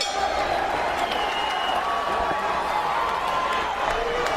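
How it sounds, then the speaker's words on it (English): A dense, steady roar from an arena crowd fills the air ahead of a Strikeforce welterweight championship fight, continuous and loud with scattered cheers and claps, with no speech over it. "Listen to this crowd. We are ready to rock."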